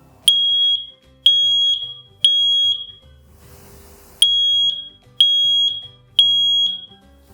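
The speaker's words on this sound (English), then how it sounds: "We recommend everyone test their smoke alarms once a week." A 10-year battery smoke alarm sounds its test signal: six loud, piercing beeps at a steady pace, with a short break of faint noise after the third, heard up close.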